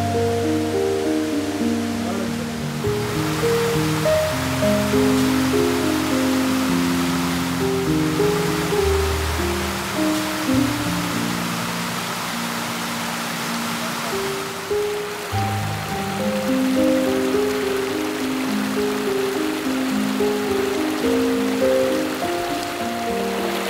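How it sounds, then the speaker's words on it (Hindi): A small stream flows beside a campsite in a dense forest, giving a steady, continuous rush and burble of water for the whole stretch, heard close up under background music. "दूसरी तरफ बिल्कुल कैंप साइट के साथ ये जो है वो एक छोटा सा प्यारा सा चश्मा गुजर रहा है"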